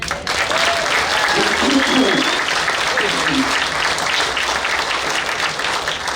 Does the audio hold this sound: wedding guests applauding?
yes